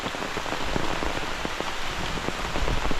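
Steady rain pours down, a dense hiss with scattered patters of drops hitting nearby surfaces, continuous and fairly loud.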